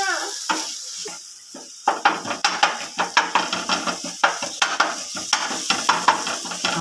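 Spatula scraping and stirring mutton brain masala on a hot tawa in a steady rhythm of sharp metallic strokes over a continuous close sizzle, with no talking.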